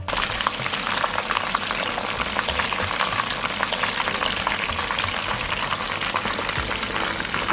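Cheese balls made from instant noodles deep-frying in hot oil, a dense continuous crackling bubble and hiss, close and loud throughout with no pauses.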